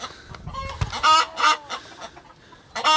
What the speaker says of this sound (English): Here's the rooster we found pig hunting.